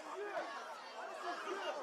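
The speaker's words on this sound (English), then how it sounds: "And that has the crowd buzzing here at Seaway." A crowd at a Quebec school soccer match buzzing with steady overlapping chatter, a close, continuous murmur of many voices without distinct words.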